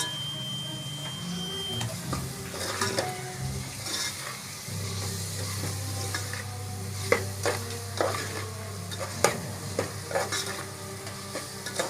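Onions, tomatoes, green and crushed chillies, turmeric and salt sizzling in a pan while being stirred, with a steady frying hiss, clinking spoon scrapes and a few sharp knocks against the pan.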